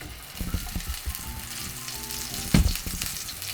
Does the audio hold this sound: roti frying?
yes